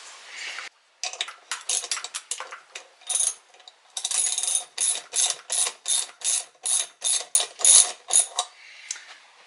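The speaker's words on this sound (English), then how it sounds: "I'm going to tighten this one down all the way so I can get this thing in place." A ratchet wrench tightens a bolt on a Honda CBR/VFR800 hybrid motorcycle frame, clicking close up in a steady run of quick strokes that grow louder and more even toward the end.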